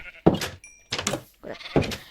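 Sheep bleating in Minecraft: three short, loud bleats in an uneven rhythm, separated by brief gaps, with a faint high game tone in between.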